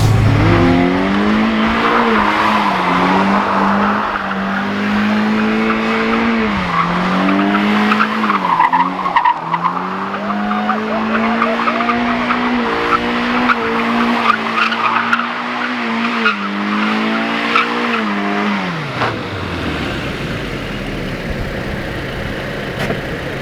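A Mazda NC2 Miata is driven hard, its engine revving up and down in repeated surges while tires squeal and skid, loud and close, before the engine cuts off near the end.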